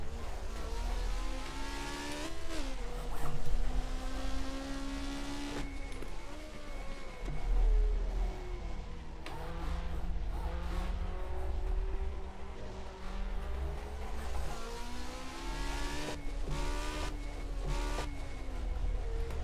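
Engine of a 1975 Formula One race car in the rFactor2 racing simulator, a steady loud whine rising and falling through repeated throttle changes and gear shifts, continuous throughout with no talk.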